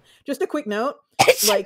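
A single loud, close sneeze bursts out after a moment of speech on a talk show, with talk on either side of it.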